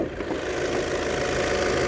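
Volkswagen Passat B8 facelift from 2020 idling under the hood, a steady, even mid-pitched engine hum with a faint rhythmic ticking, close by and with no talking.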